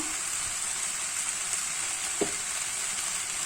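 Onions caramelizing in a frying pan under a lid make a soft, even hiss that runs unbroken, with one small clink partway through and no voices.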